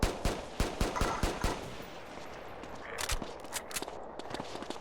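Rapid gunfire in the video game DayZ: a quick string of sharp shots at first, then a few scattered bursts a little further off, over a quiet background with no talking.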